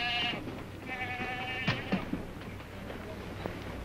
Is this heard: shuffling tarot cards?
no